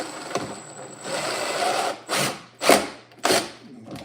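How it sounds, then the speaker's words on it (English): A handheld power drill boring into a wooden cabinet drawer whines steadily, then comes in three short separate revving bursts close to the microphone, with no talk over it. "May have to drill a whole different hole."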